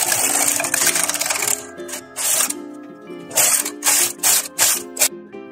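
A domestic knitting machine runs rows in waste yarn while making baby slippers. The carriage clatters and rattles in repeated sliding passes, close and loud, with short pauses between strokes.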